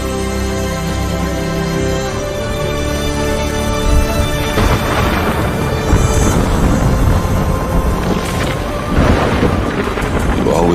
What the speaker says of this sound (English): Always said a storm was coming.